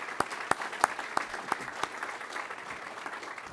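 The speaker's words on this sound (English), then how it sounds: "you deserve a special round of applause." Audience at a pilot training graduation clapping, heard as a handful of distinct, evenly spaced claps that fade into a faint patter.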